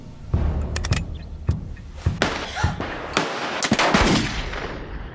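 Gunshots in a Wild West shootout in New Mexico territory, a string of sharp, loud cracks at irregular intervals, some in quick succession.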